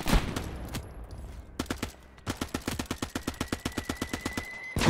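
Enemy soldiers fire at the player in a World War II game set at Carentan: sharp, rapid bursts of gunfire, first scattered, then a steady, fast, evenly spaced string of close, loud shots after a brief pause.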